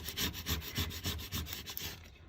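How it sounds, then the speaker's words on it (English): Adhesive vinyl burnished onto transfer tape with rapid back-and-forth rubbing strokes, a steady scraping rhythm of roughly ten passes that ends abruptly, close up and with no talk. "I'm gonna burnish the front. I'm gonna flip it over. I'm gonna burnish the back."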